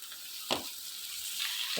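Garlic sizzles quietly in a pan for vada curry, a soft continuous hiss broken by a brief stirring scrape near the middle.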